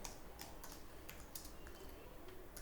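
Someone types code for a JavaScript tutorial on a computer keyboard, giving a quiet, irregular run of key clicks and taps.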